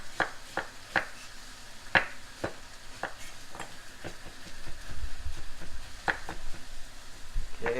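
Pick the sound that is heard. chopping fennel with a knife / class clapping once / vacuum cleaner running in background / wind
chopping fennel with a knife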